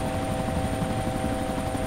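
A helicopter in the video game DayZ hovers or flies overhead, producing a steady, dense rotor and engine drone that continues without a break for the whole stretch, fairly loud, with no voices.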